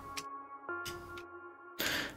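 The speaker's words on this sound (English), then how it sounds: "This is a pretty standard bell." A plain two-oscillator FM synth bell, dry and unprocessed, plays a couple of short ringing notes with a pitch change, separated by percussive ticks, then a noisy burst closes it; fairly quiet and isolated, with no voices.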